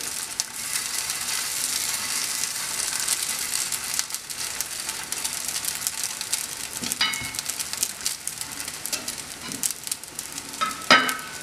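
Dahi wada balls cooking in ghee on a pan, a steady close sizzle and crackle running throughout with occasional sharper pops and scrapes near the end.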